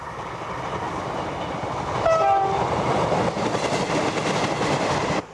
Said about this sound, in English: Passenger trains are now all multiple units, such as the Class 158 BREL Express.